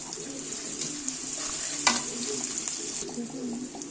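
Sliced onions for beresta sizzle steadily in a hot pan, a bright continuous crackle with occasional louder spits and stirring scrapes, a voice faintly present.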